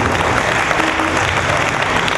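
A church congregation bursting into sustained, loud applause at a dedication festival service, dense clapping from a full crowd that holds steady for the whole short stretch.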